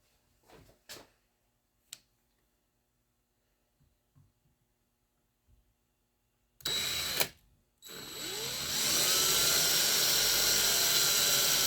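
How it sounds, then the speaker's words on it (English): A few quiet clicks and taps, then a power drill with a small 3/32 or 5/64 bit whirs briefly, stops, and starts again, drilling a pilot hole in a Winchester XPR rifle stock, running steadily and loudly through the end. "I'll use like a 3/32 or 5/64 drill bit and drill the pilot hole"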